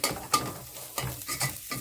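Small omena fish fry in hot oil, a soft sizzle broken by a few scraping stirs of a utensil against the pan, close and fairly quiet with no voices.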